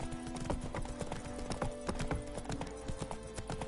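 Geralt's horse Roach from The Witcher video game walks along in a steady, close clip-clop of hooves over a faint ambient bed, with no talking.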